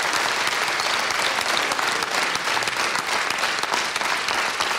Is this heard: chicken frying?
no